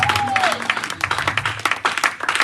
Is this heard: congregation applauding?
yes